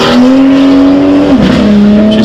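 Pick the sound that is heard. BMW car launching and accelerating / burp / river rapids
BMW car launching and accelerating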